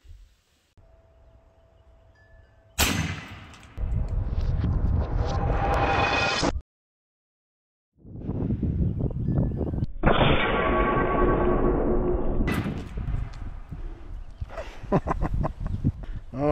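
A Serpent Arms 550L 28-gauge PCP air shotgun fires tungsten rounds at targets, sharp loud blasts followed by ringing tails and a short gap of silence between shots, with no voices.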